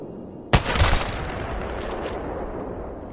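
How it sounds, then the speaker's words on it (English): A single heavy Kraber bolt-action sniper rifle shot in Apex Legends cracks loudly and close, then trails off into a ringing tail. Fainter mechanical clicks and rattles of the bolt follow afterward, and no one speaks. "Kraber is a bolt action rifle."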